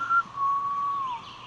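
A person whistles alone, imitating an animal call: a short high note, then a long sustained tone that slides slightly downward, close and clear against a quiet background.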